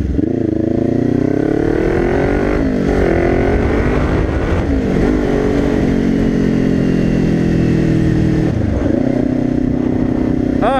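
A Yamaha motorcycle engine runs steadily and loudly close by, its rumble rising and falling with throttle changes, with no talking.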